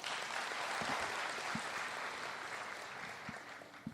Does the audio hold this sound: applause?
yes